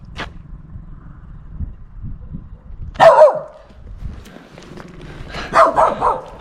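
A dog barking outdoors near an abandoned factory area in Lithuania: a single sharp bark, then two louder bursts of barking a few seconds apart, close by with quiet street ambience between.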